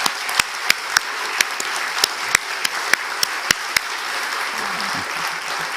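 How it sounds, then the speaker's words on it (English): Audience applause at a COP26 event in East Hampshire, honouring students who spoke about their schools: scattered, moderately loud claps with a few sharp distinct ones over a steady wash of clapping lasting several seconds. "I hope everyone in the audience will give them a very big round of applause"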